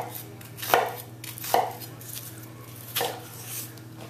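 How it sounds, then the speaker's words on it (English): A knife chops through an onion on a cutting board, leaving the root end intact, with three or four distinct thuds over a steady background hum, close by. "we're going to make cuts through, making sure we don't go all the way to the end"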